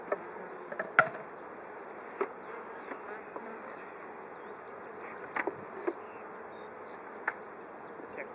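Honey bees buzz steadily around an open beehive as frames are lifted out, a continuous close drone with scattered faint knocks and clicks from the hive woodwork.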